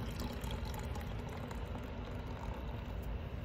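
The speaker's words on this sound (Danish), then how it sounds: "Hyldeblomst og lime. Hælder heroppe i." Somersby elderflower and lime cider being poured into a mixed drink, a faint continuous fizzing, splashing pour with no talk.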